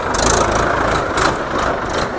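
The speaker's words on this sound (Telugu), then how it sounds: "tractor tractor" A tractor engine heard from the roadside on a city ride: a loud, close, rough low rumble with a pulsing throb, running steadily throughout with no talking.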